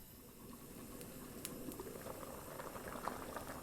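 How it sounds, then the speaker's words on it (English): Mangalorean chicken curry (kori gassi) bubbles at a steady boil in a lid-covered pot, a low continuous simmering burble with occasional soft pops, quiet and close, with no voices. "You can see it's boiling and the chicken, it's all cooked"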